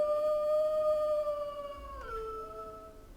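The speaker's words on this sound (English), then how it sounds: "A howling animation and sound." A wolf avatar's animated howl plays once, a single long, clear, slightly falling wail that drops in pitch partway through and fades out.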